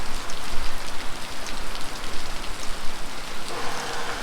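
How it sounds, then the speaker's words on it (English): Heavy rain pours down steadily over open pasture near a greenhouse, a dense, loud, continuous patter of drops striking surfaces, with no voices. "It is really coming down now."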